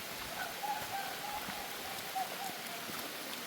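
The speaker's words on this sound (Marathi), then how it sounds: "पाऊस सुरू झाला आहे जोरदार" Heavy rain begins falling near a hidden waterfall at Kasarvadavli, a dense, even hiss of drops close by, with a few faint bird-like chirps over the top.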